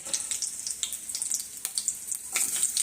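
Cumin and mustard seeds crackle and sizzle in hot oil in a pan, a close, busy spattering hiss with quick popping bursts.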